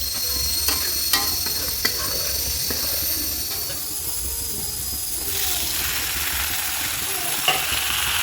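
Spice paste sizzles and hisses steadily in a hot pan, with occasional scraping and stirring clicks from a utensil, close up.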